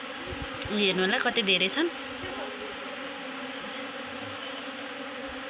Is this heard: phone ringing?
no